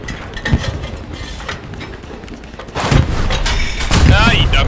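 Heavy booming gunfire and thuds from an anti-tank gun shot in the WWII shooter Hell Let Loose, with loud impacts and rumbling battle noise, while players talk over the action.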